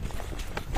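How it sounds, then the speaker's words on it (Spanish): A horse walks nearby with a few soft hoof clops in quick succession, brief and muffled under a rumbling outdoor background. "Ahí anda el caballo, güey."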